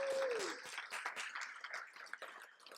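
Applause from an audience at an agriculture forum hosted at Simon Fraser University in Surrey, a dense steady patter of clapping that starts over a brief tone and fades slightly toward the end.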